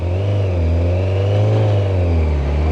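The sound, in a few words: Kawasaki ZZR 1100 motorcycle engine revving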